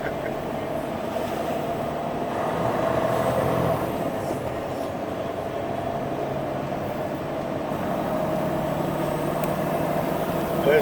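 A Freightliner Cascadia truck with a Jake brake rolls along steadily, its engine a continuous loud low rumble with a broad roar that swells briefly and then holds even.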